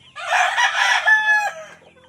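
A flock of chickens with young birds just over two months old, fed leftover feed, clucking and crowing loudly in a long, continuous burst with no talk.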